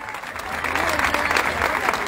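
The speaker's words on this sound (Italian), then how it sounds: "facciamogli un altro applauso, questo gruppone!" Lively audience applause for a group at an outdoor evening event in Leuca, steady dense clapping with crowd cheers, building slightly and filling the whole moment.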